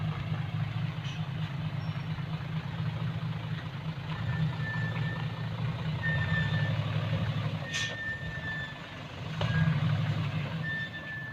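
A dump truck reverses while a faint beeper sounds in short repeated tones over a low, steady engine rumble, with a brief metallic clank partway through.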